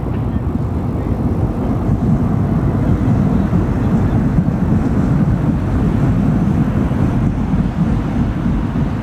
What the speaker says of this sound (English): That's the Air France now with its gate. Brilliant landing.